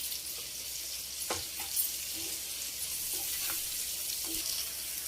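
Fish with tamarind leaves fry in oil, giving a continuous close hiss and sizzle with a few soft scraping stirs and faint clinks scattered through.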